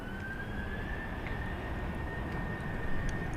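A jet engine spools up somewhere off in the distance at Seoul Incheon Airport, a thin rising whine over a steady rumbling wash of airport noise, faint and continuous.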